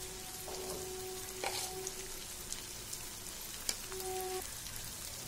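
Okra masala is stirred in a pan over a faint, steady sizzle, with a few soft scrapes and clinks of a spatula against the metal, quiet and close, with no voices.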